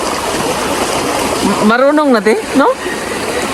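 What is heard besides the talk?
rustling of flowing stream water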